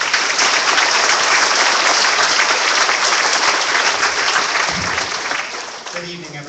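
Loud, dense applause from a crowd at a community rally, a steady roar of clapping that fades near the end as a voice begins to speak.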